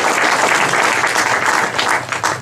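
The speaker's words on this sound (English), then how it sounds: "a big thank you, and a bigger round of applause to ArcSoft and to AOL" Audience applause at a Mobile Monday Silicon Valley tech event on mobile imaging, a dense, steady wash of many hands clapping close and loud that thins slightly near the end.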